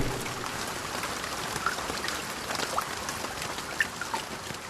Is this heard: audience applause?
no